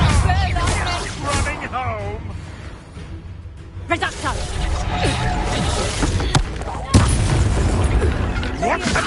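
Spell blasts and booming impacts from Hogwarts Legacy gameplay, several sharp bursts and crashes scattered through a busy mix of game effects and music, with talking over much of it.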